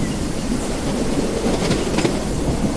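Sapthagiri Express train running on rails while slowing down, with a steady, loud broadband rumble and rattle heard from on board, plus a few faint squeaks and clacks and no voices.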